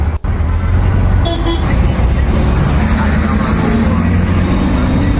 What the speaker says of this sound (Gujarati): અમદાવાદનું ટ્રાફિક સિગ્નલ